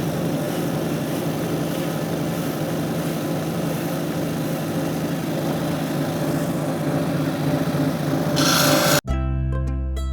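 An agate nodule from a Kentucky rock shop is ground on coarse 100 and 80 grit abrasive, making a continuous, close grinding rasp that stops abruptly near the end, leaving a low steady motor hum.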